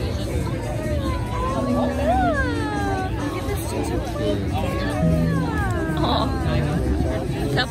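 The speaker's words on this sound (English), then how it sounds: "There's a kitty in here." A cat meows repeatedly in rising and falling cries amid a busy indoor crowd, with people chattering close by throughout.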